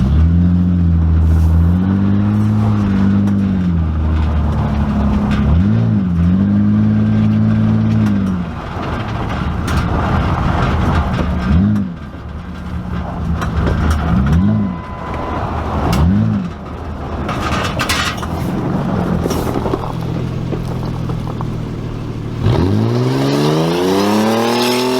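A 2000 Ford Ranger truck's engine revs up and down repeatedly, loud and close, as the truck pulls away. The rises and falls come in separate bursts, then a final strong rev climbs near the end.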